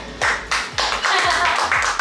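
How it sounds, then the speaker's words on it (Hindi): A small group claps hands at a family birthday celebration with a cake, giving a few bursts of steady clapping that pause briefly between rounds, heard near. "तालियां बजाओ सब जने।"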